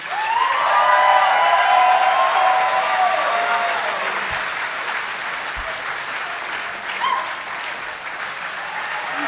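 Live audience applauding at a Dungeons & Dragons comedy show at RTX 2017, sustained dense clapping and some cheering that starts loud and slowly thins out, with a few whistles.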